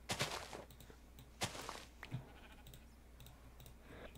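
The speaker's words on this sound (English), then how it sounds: "Oh, sheep." Sheep bleat faintly in the video game Minecraft, a few short bleats in the first two seconds over a quiet background, then soft scattered game sounds.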